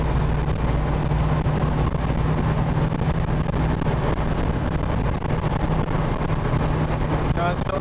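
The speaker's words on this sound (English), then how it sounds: "this engine just purrs like a kitten" A 1957 Chevy 150 Handyman engine idling smoothly, a steady low rumbling hum throughout with a faint constant tone, while someone talks over it.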